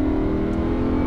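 Lamborghini Huracan engine on a race track, a loud, steady, close droning note held at constant throttle from inside the car for about a second.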